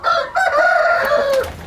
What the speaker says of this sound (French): C'est un coq neuf